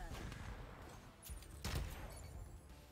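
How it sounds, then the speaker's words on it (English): Iron Man's sci-fi laser cannons fire in quick bursts over a low game soundscape in Iron Man VR, with one louder zap standing out near the end. "Doesn't seem like there's a lot of range on my laser cannons actually."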